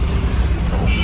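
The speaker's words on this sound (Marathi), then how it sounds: "चला आपण पण इथे गाडी पार्क करूया." A car's engine rumbles low and steady at close range as it pulls in to park outside an office, with a continuous droning hum through the short moment.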